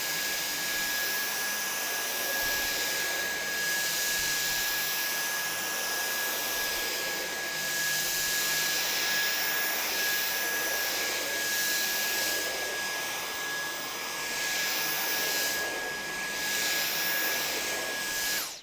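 A Dyson V10 cordless vacuum cleaner runs steadily at max power, a loud, close, continuous high-pitched whine and airflow roar with a constant tonal note and slight surges in intensity, no talking.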